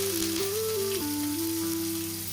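Finely chopped garlic and onions sizzle steadily in hot oil in a pan for fried rice, a soft continuous hiss running beneath louder background music with sustained tones.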